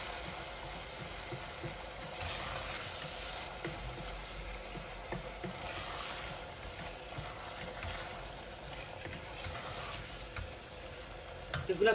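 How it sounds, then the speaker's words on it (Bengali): Dried beef and rupchanda fish shutki being fried and stirred in a pan, a steady sizzle with soft scraping strokes running continuously for the whole stretch, moderately close and with no talking. "এই যে বুনা হচ্ছে"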